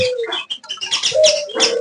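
Pigeons coo at a bird shop, low rounded calls repeating over scattered chirps and bird calls nearby, with no talking.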